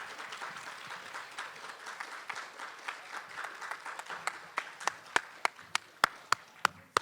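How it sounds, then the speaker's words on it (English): Audience applause after a scholastic bowl game, a steady patter of many hands that thins out into a few loud, sharp individual claps spaced at regular intervals near the end. "Let's have a round of applause."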